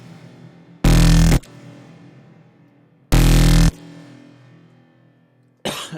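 A growl bass synth built in Serum hits in short, loud, gritty bursts of about half a second, two full stabs and the start of a third, with a quiet tonal backing between them.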